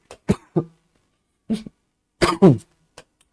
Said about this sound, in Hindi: बाबा जी को खांसी आ गई